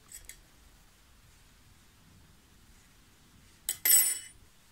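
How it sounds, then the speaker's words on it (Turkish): Crochet yarn snipped with scissors: a quick metallic scissor cut near the end after a faint click earlier, close and crisp in an otherwise quiet room. "Daha sonra dikiş yapacağım için ipimi biraz uzun bırakıp kestim."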